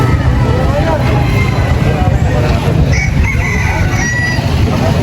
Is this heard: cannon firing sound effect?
no